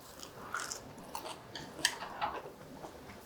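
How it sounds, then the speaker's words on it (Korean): Several crisp, crunchy bites and chewing sounds of fried eggplant, close to the ear, with short pauses between each crackle. "들리시죠? 바삭바삭한 소리."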